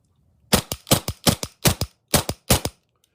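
Seven sharp, loud simulated shots from a Cool Fire laser training trigger system, fired in quick pairs and singles with short gaps, each a crisp snapping crack, close and alone.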